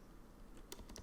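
Quick bursts of keystrokes on a computer keyboard, faint and close, a short cluster of clicks near the end of a quiet stretch.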